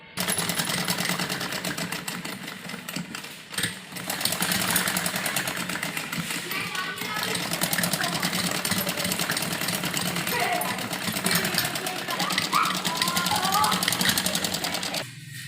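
A sewing machine hums and rattles continuously while stitching frock fabric, close and steady, with someone talking over the machine throughout.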